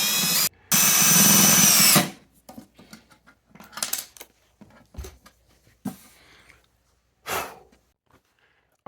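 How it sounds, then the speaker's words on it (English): A power drill driving screws to mount a component for a DIY solar power system, one long loud whirring burst followed by scattered handling knocks, shorter clicks and another brief drill burst. "We're gonna get this one screwed in."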